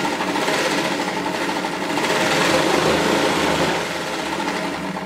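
An electric motor on a sewing machine, worked by a pedal, runs slowly in a steady whirring stitch rhythm, close and continuous without talk.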